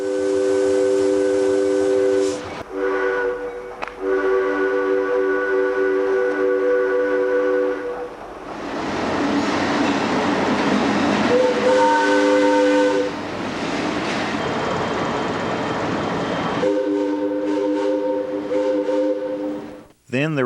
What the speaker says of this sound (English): Air whistles may yet be heard on some short lines.